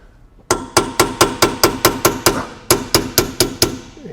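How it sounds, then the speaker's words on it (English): Sharp metallic hammer taps on a small chisel tapping out a Ford 8.8 axle pinion seal, a rapid even run of about eight strikes, a short pause, then six more in the same rhythm. "the best way to do this is with a little hammer and a little chisel like this."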